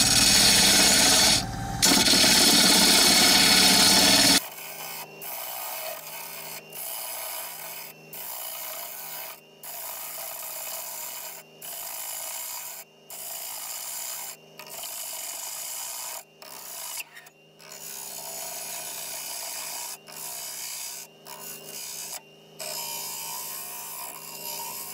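Wood turning on a lathe at 1200 RPM with a 5/8 Hurricane bowl gouge aboard a catamaran: a steady rubbing hum with scraping cuts and regular short breaks, after a louder, harsher burst at the start.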